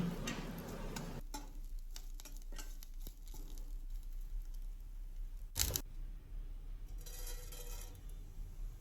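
Curry leaves sauté in a pan over low heat with a soft, continuous sizzle and patter, punctuated by light stirring taps and one sharper clatter partway through.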